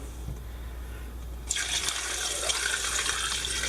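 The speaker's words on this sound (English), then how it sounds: "now we are going to fill this until the water hits the 12 cup mark inside of our Instant Pot." Water gushes steadily into an Instant Pot up to the 12-cup mark, starting abruptly after a quiet moment and continuing as a close, even splashing rush.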